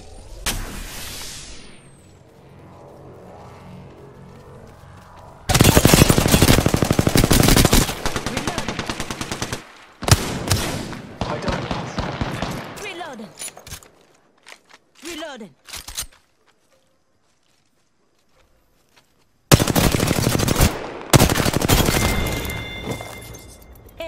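Rapid automatic gunfire in the video game Apex Legends, loud dense bursts of several seconds each separated by quieter gaps with scattered shots and footsteps, and a player's voice talking over parts of the fighting.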